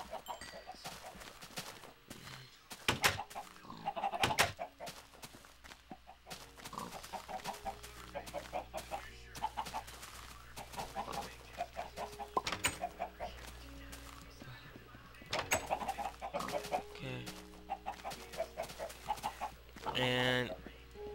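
Chickens clucking in Minecraft around a chicken coop, with repeated bursts of clucks and squawks throughout. Someone talks over parts of it.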